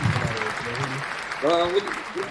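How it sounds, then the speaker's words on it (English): A small group applauds a guest on a podcast set, clapping mixed under overlapping voices and chatter, close and moderately loud. "Give a round of applause for him."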